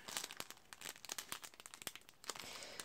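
Plastic packaging crinkles and tears in quick, close bursts as a combo set of cutting dies is unwrapped, with no talking.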